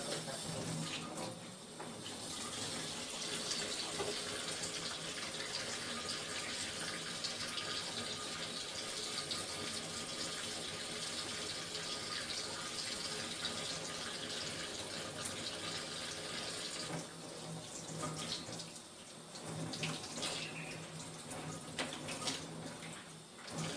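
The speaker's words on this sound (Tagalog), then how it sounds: "we need to wash our hands to avoid microorganism or cross microorganism" Running tap water flows steadily for hand washing, a continuous close splashing rush with slight shifts in tone near the end and no talking.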